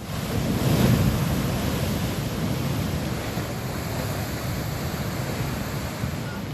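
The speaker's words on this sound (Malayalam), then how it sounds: "ശക്തമായ തിരയടിച്ചിലിൽ കല്ലുകൾ ഇളകി തിരമാലകൾ തീരദേശ റോഡിന് സമീപം എത്തിയിരിക്കുകയാണ്" Strong sea waves pound the coast at Ajanur beach in Kasaragod during sea erosion, a loud continuous roar of surf with wind buffeting the microphone and no voices.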